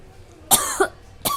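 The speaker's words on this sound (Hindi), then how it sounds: "तो उसी से खांसी आ रही।" Two or three sharp coughs triggered by cooking fumes, close and loud, in a quick cluster with a short pause before the last one.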